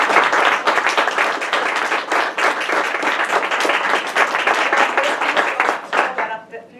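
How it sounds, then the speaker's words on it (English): Loud, dense applause from an audience at a digital scrapbook unveiling, sustained clapping with some voices mixed in, tapering off abruptly at the end. "So I would like to give them a round of applause."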